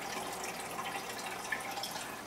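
Running water for a water ITC session flows close to the recorder, a steady hissing splash with brief drips, fairly loud and continuous with no voices.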